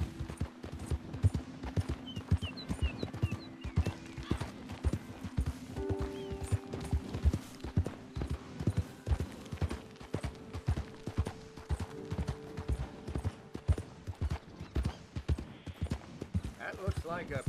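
Steady clip-clop of horse hooves trotting along in Red Dead Redemption 2, with a brief whinny and game music tones underneath, plus occasional voices.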